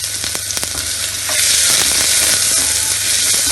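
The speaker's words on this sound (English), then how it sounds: "I will take 2 spoons of olive oil and saute onion" Chopped onion sautéing in about two spoons of olive oil for a roasted pumpkin soup, with a few light clatters at first, then a steady, close sizzle that swells louder and holds, no talking.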